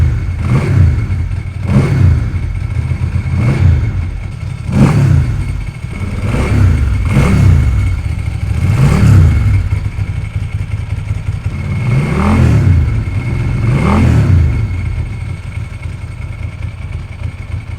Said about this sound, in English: God, that's a good sounding bike.